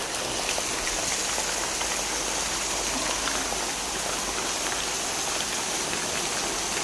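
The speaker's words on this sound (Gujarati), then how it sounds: "આજે પણ અતિ ભારે વરસાદ ચાલુ છે જોરદાર ધોધમાર વરસાદ ચાલુ" Heavy monsoon rain pours down in a steady, dense roar that fills every moment, loud and close with no break or lull throughout.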